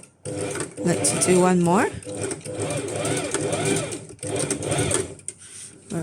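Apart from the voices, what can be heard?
sewing machine back stitching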